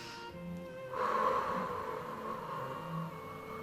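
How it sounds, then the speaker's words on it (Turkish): A slow, deep breath is drawn in and then released with a soft, airy rush, close and unhurried, with no talking. "Haydi derin nefes alıyoruz."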